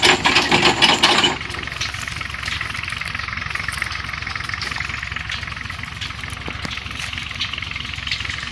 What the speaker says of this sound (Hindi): अब इसको ट्रैक्टर के साथ खींचना है।